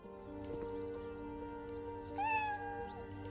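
A cat in the video game Cafe Owner Simulator gives two clear meows, the first near the start and a louder, rising one later, over a steady hum of game background music.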